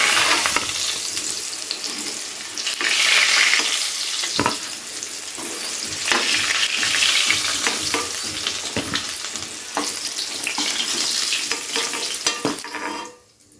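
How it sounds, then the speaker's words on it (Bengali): Potatoes frying in hot oil for a dhaniya chicken dish give a close, steady sizzle, broken by frequent clinks and scrapes of a spatula stirring the pan throughout. "তো দেখুন আলুগুলো কিন্তু সুন্দর লাল লাল করে ভেজে নেওয়া হয়ে গেছে।"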